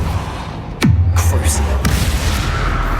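A Depulso force spell is cast in Hogwarts Legacy during a troll fight, a sharp magical whoosh that drops into a deep rumbling boom, followed by a sustained low rumble and a second burst.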